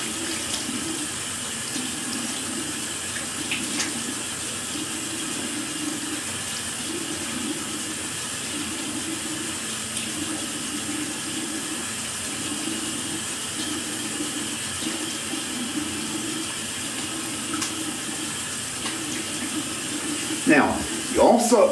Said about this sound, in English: So now I'm going to rinse my face with cold water or cool.